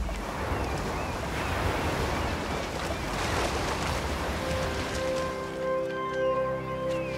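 Sea waves surging and water rising in the video game Unraveled, a loud continuous roar of surf with wind, easing slightly as sustained tonal music notes come in near the end.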